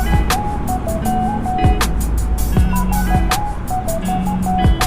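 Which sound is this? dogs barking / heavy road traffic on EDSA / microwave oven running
heavy road traffic on EDSA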